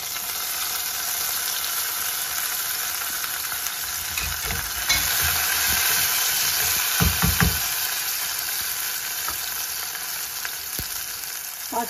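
Green chillies frying in a pan of hot oil, a steady loud sizzle with occasional stirring clatter running unbroken throughout.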